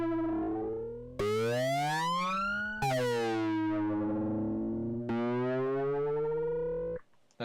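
A synthesized gear-shift effect built in Reason 6.5.3 with saturator distortion: four buzzy, harmonic-rich tones, each sweeping in pitch like an engine revving and then dropping as it shifts, loud and alone before cutting off abruptly.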